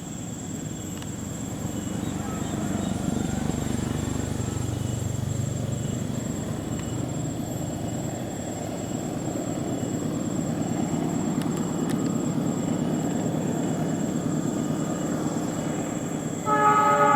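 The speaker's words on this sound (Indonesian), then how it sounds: "Kereta api Lodaya." Lodaya passenger train locomotive straining uphill in the rain, a loud continuous engine roar with rail rumble that swells and holds, and a brief horn-like tone near the end.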